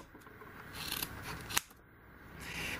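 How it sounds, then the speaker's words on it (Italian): Electrician's scissors snipping through a tough roller shutter strap, a single sharp, close cut standing out over a low rustling of handling noise. "Guardate una forbice da elettricista come taglia."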